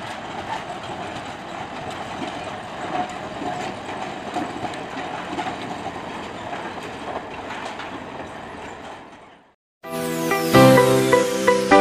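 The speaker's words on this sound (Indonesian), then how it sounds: "ini merupakan cuplikan video dari jalur kereta lori menuju ke kebun Sukosari" A sugar mill lorry train from PG Jatiroto runs along its track toward the Sukosari plantation, a continuous rumbling clatter of wheels on rail that cuts off near the end, followed by a few seconds of music.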